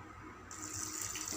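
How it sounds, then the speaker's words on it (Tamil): Water pours into a cooking pot for rice and lentils with spinach greens. A quiet background gives way to a steady, hissing splash that begins about a third of the way through and keeps running. "தண்ணி ஊற்றிக்கலாங்க. 3 டம்ளர் அரிசிக்கு 6 டம்ளர் தண்ணிங்க."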